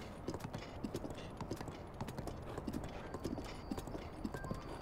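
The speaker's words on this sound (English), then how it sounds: "Whenever I call my horse." Rhythmic clip-clop of a horse's hooves galloping across open ground in Zelda: Breath of the Wild, steady repeated beats with a faint whinny and light game ambience behind.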